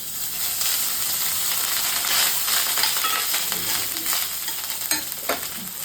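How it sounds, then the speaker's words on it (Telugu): Tempering spices crackle and sizzle steadily in hot oil, with stirring and scraping as cooked rice goes into the pan; a loud, continuous frying hiss with scattered pops and no talking. "తాలింపు దినుసులు వేడైన తర్వాత చిటుక్ చిటుక్ అంటే ఒక్కొక్కసారి దీంట్లో అన్నం వేసేసుకోండి"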